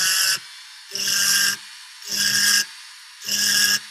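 A rotary bur grinds texture into wood in four separate bursts of roughly half a second each, with short gaps of quiet between them. The whine and rasp stay close and steady within each burst, and no one talks.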